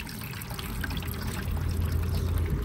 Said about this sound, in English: Got the coolant draining already